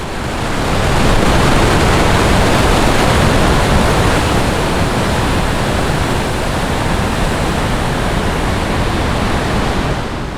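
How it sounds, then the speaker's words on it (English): Murchison Falls in Uganda, where a wide river forces through a narrow opening, roars as a dense, continuous wall of rushing water, loud and unbroken throughout. "we couldn't leave without stopping briefly at Murchison Falls"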